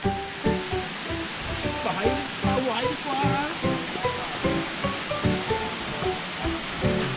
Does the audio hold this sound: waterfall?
yes